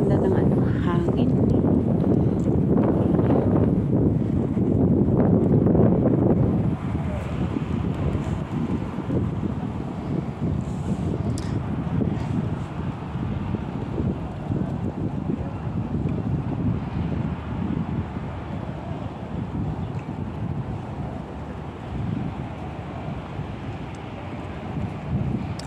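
Strong seaside wind at Tsing Yi rumbles and buffets the microphone in a steady, loud roar, heaviest in the first few seconds and then continuing a little lower, with a person talking now and then beneath it.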